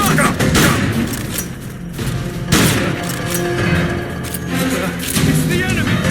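Repeated bursts of gunfire in Metal Gear Solid Peace Walker HD with heavy booming shots, loud and close, continuing throughout with brief gaps between volleys.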